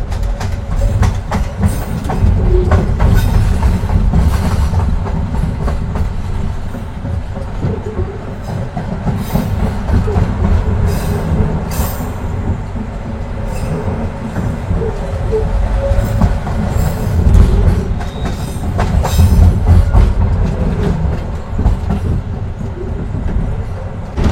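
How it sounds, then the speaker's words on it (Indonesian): A passenger train rumbles steadily along the rails after departing Jatinegara station in Jakarta, loud and close, with rhythmic clickety-clack and occasional metallic squeals over a continuous roar. "kereta api Gumarang baru saja diberangkatkan dari stasiun Jatinegara"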